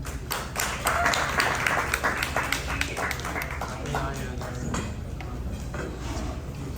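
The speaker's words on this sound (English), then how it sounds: "So please, big round of applause for Mr. Charlie Einsmann." Scattered clapping from a crowd fills the room, a steady patter of applause with a murmur of voices underneath.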